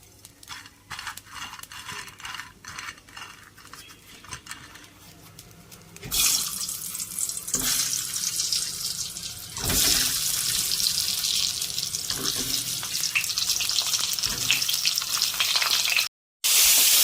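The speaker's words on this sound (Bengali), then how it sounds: "এবারে পটলটাকে নুন মাখিয়ে ভেজে নেব" Salted pointed gourd fries in mustard oil in a kadai, starting as quiet clatter and then bursting into a loud, dense, continuous sizzle that stays steady until a brief cut near the end.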